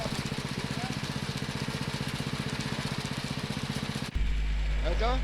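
Engine-driven machine cleaning freshly harvested rice grain in a village paddy setting, steady rhythmic mechanical chugging for about four seconds, then a sudden shift to a heavier, louder constant rumble.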